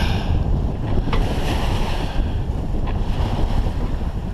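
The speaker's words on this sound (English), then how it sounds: "clearly sailing into these waves, slowing me down a tad" A sailboat beats into waves on Lake Erie near Pelee Island, with a loud, constant rush of water and wind buffeting the microphone, and a few splashes of hull meeting waves, no voices.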